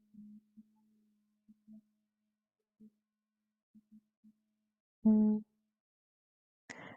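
Several people hum together at the close of a yoga class for Parkinson's, a series of low steady sustained tones in short separate rounds, with one longer, louder hum near the end, in an otherwise quiet room.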